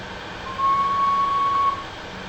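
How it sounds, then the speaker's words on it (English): A single steady electronic tone sounds for about a second over a low background hum, a video game train whistle effect. "Try sounding the whistle now."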